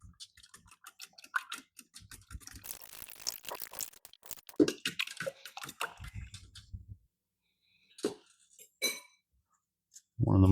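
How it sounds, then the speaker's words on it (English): A fork whisking eggs in a bowl, rapid clinking taps of metal on the bowl in a quick steady rhythm, close and clear, then pausing into a few scattered clinks and knocks. "Using a fork, break the yolks and then whisk them"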